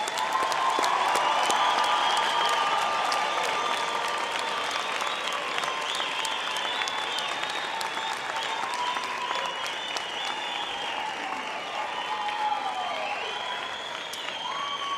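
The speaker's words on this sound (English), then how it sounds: "let us give our graduates a big hand for their hard work and perseverance." Sustained audience applause at a university autumn graduation ceremony, honouring the graduates; steady, dense clapping from a large crowd carries on without letting up for the whole stretch.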